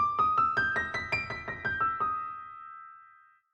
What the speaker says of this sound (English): we have this chromatically inflected run starting on a D